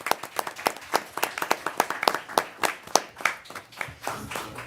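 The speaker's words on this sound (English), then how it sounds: "Everybody give a round of applause." A small group at a council regular session claps for an award of excellence presentation, sparse distinct hand claps in a loose rhythm, several hands audible, tapering off near the end.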